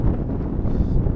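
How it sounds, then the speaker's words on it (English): Strong wind buffeting a microphone outdoors in London in July, a low rumbling roar with gusty surges, loud and continuous with no voices. "Really is windy."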